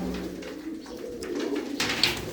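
Low rolling coos from a group of loft pigeons rise and fall nearby, with a brighter rustle or flutter near the end and no voices.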